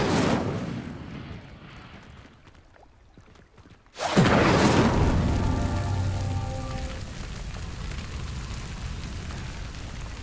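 A fire spell cast in Hogwarts Legacy ignites a pyre: a sudden loud whoosh bursts in after a quiet, airy lull, then settles into a steady crackling roar of flames that slowly fades.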